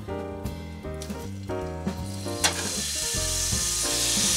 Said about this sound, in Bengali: বেশি ফ্রাই করব না, কারণ বেশি ফ্রাই করলে প্রন পুরো রাবারের মতন হয়ে যাবে